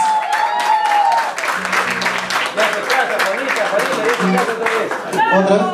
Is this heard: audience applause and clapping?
yes